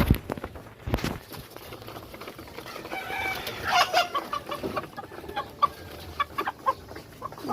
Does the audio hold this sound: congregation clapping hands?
no